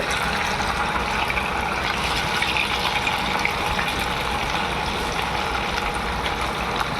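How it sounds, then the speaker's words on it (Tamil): Marinated green chicken 65 deep-fries in hot oil, giving a loud, dense, unbroken hiss and bubbling that holds steady throughout with no voices. "இப்போ கிரீன் சிக்கன் பொறிக்க போகிறோம்"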